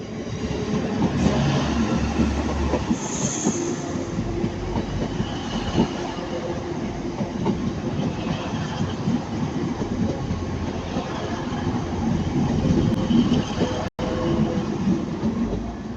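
A train passes at Ardwick on the approach to Manchester Piccadilly, a continuous loud rumble with rhythmic wheel clatter and faint squeals lasting the whole stretch, steady and close with no talk.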